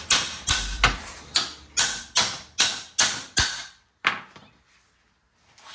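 Sharp hammer blows ring out on a 1965 Mustang, about nine evenly spaced metallic strikes each with a short decaying ring, followed by one last hit after a brief pause and then quiet.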